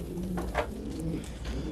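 Purebred French meat pigeons coo softly at close range, a few low, throaty rolling calls over a steady background hum.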